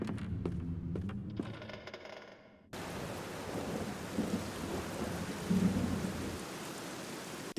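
Steady rain hisses alone in the video game The Black Mirror, arriving abruptly after a quieter stretch of faint tonal ambience, with low thunder rumbling underneath and swelling briefly near the end.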